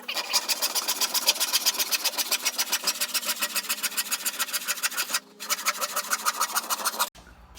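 A handsaw cuts through a wooden board for a simple flower bed, the board steadied underfoot, making steady rhythmic rasping strokes that run fast and even, close and loud, with a brief pause before the sawing stops.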